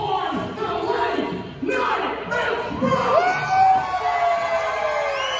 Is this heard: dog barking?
no